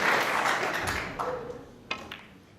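Crowd applause at the 2018 World Snooker Championship final, a burst of clapping in the arena that gradually fades, with a few sharp individual claps standing out near the end.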